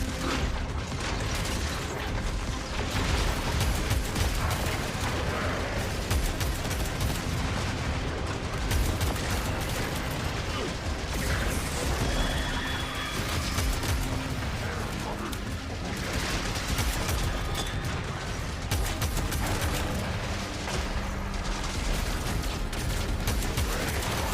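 Dense, continuous gunfire and mechanical clatter from a Warframe battle roars without letup for the whole stretch, loud and close, with no clear talking over it.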